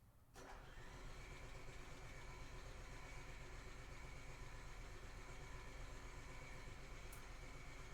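The generator on a 2018 Chateau 28Z RV cranks briefly and catches, then settles into a steady, constant mechanical drone that runs on without a break, fairly faint and with no voices.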